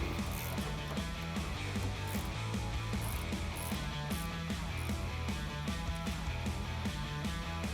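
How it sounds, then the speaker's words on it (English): A ratcheting wrench loosening a sway bar end link nut on a 2009-2018 Ram 1500 during a front suspension lift: a quiet, fast run of rhythmic clicks that continues steadily throughout, with no voices. "the reason we're doing a ratcheting wrench is number 1, it's gonna make life easier"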